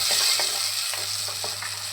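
Onions, tomatoes and green chilies sauté in a pan for a Kerala-style fish curry, a loud continuous sizzle broken by repeated soft scrapes of a stirring spoon.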